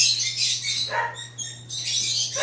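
Pet birds indoors calling in a busy run of high, bright chirps and squawks, with a brief lull midway, over a steady low electrical hum.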